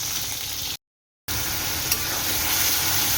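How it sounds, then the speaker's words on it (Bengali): Spice paste for parshe fish, made from ground green chilli, onion, ginger and garlic with black cumin seeds, fries in a pan with a steady, dense sizzle that is close and fairly loud. There is one short gap of silence and no talking. "পার্শে মাছের মশলা কষা চলছে।"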